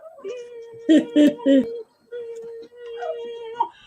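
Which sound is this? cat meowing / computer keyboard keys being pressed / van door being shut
cat meowing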